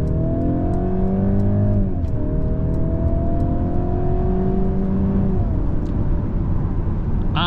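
A 2023 Mercedes C-Class pulls away hard in Sport Plus mode, its engine note rising steadily through the gears with brief dips at each shift, loud and continuous inside the cabin.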